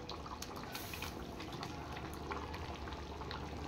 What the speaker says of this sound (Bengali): এইবার ভালো করে ফুটিয়ে নেব